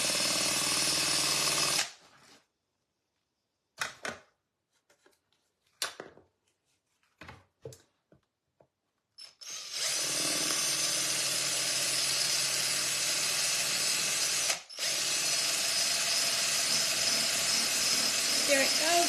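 A power drill grinds loudly to bore out a broken drill bit stuck in a vintage aluminum Christmas light cover, in a short burst, then a pause with scattered clicks, then a long sustained run.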